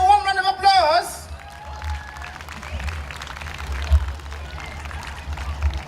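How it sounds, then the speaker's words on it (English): An audience at the Jambo Africa 2019 event claps in a warm round of applause, a dense steady patter filling the hall after a loud announcer's voice, with scattered crowd noise underneath. "Please, let's give them a warm round of applause."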